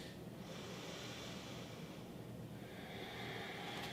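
Soft breathing during a pause in a yoga session, quiet airy inhales and exhales with a faint snort-like breath, close and alone.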